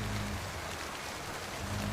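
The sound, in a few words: heavy rain in a cartoon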